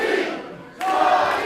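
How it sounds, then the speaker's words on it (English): A wrestling arena crowd roaring at a live pro wrestling event, loud and sustained, swelling again after a brief dip. "Listen to this crowd."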